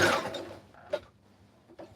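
A sewing machine runs along a seam line on a red carpet dress, giving a few short, quiet mechanical bursts with soft gaps between them.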